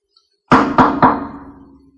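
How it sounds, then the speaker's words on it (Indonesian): Three quick, loud knocks on a door sound from outside a house, each a heavy thud with a short ringing decay. "Terdengar suara ketukan pintu dari luar rumah."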